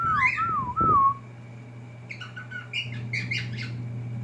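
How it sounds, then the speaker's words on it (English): A pet cockatiel gives clear, loud rising-and-falling whistles, two or three looping phrases at first, then after a pause a run of shorter chirps and squawky whistle notes over a faint steady hum indoors. "This is the most she's whistled."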